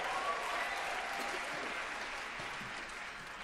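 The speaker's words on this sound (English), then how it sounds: "Give yourselves a round of applause." Audience applause fills the hall at a LABBS barbershop quartet convention in Harrogate, a dense, steady wash of many hands clapping that stays loud throughout and eases slightly toward the end.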